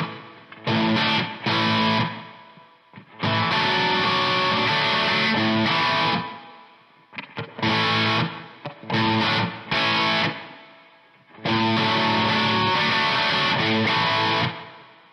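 A 1970s rock electric guitar riff, played with heavy distortion and doubled with a low fretted A. It comes in loud, chunky phrases separated by short silences.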